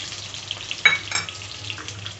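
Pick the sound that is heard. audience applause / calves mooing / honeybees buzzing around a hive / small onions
small onions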